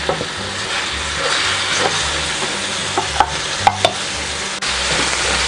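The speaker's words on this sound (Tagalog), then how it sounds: "Tapos ipiprito natin tong ating ground beef." Ground beef fries in cooking oil in a wok-style pan (kawali), giving a steady, close sizzle with a few sharp pops and utensil clicks and no talk.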